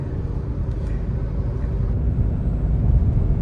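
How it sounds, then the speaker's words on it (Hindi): Hyundai Venue accelerating in third gear, giving a steady, fairly loud low engine and road rumble that holds evenly throughout with no voices. "3rd गियर में इसकी स्पीड देखो 80 के आसपास आराम से आ जाती है इसकी।"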